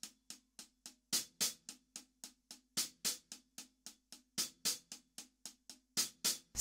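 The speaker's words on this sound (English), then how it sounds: "let me just play you that sticking on the hi-hat on its own." A triplet sticking pattern played alone on a hi-hat, crisp close ticks in a steady repeating rhythm with louder open accents recurring in each cycle.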